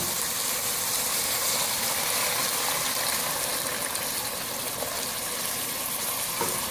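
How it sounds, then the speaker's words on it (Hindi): Water poured into an Indian-style pumpkin curry of vegetables just fried over high heat in a pan, giving a steady, loud, rushing gush with no pauses. "2 गिलास से पानी शामिल करेंगे।"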